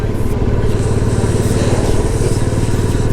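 A motorcycle rumbles steadily and loudly at close range while riding a mountain road toward Leh, a constant engine drone mixed with wind and road noise and no break.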